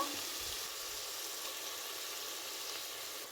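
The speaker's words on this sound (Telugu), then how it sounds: "ఇప్పుడు మసాలా కూడా పచ్చివాసన వెళ్ళేంత వరకు ఒక టూ మినిట్స్ ఫ్రై చేసుకోవాలండి" Masala spice paste frying in a pan, a faint, steady sizzle running without a break.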